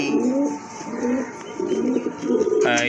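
Pigeons coo in a steady low repeated rhythm, several soft throaty calls in a row, close by, with faint background noise.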